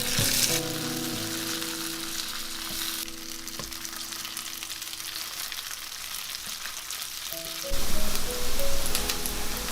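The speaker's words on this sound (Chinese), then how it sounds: "油温热了再放进来煎。" Cooled potato cake pieces pan-frying in hot oil, a steady close sizzle and crackle that holds throughout and swells louder near the end.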